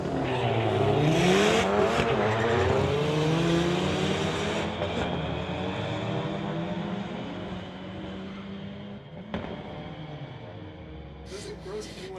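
A 2015 VW and a 2009 Dodge Caliber launch in a drag race, their engines revving hard and sweeping up through the gears as they pull away into the distance, with an announcer talking over the fading roar.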